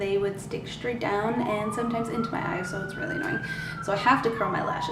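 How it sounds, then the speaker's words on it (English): A wailing siren rises and falls in the background while someone talks steadily over it. "That's a siren, which you probably could hear."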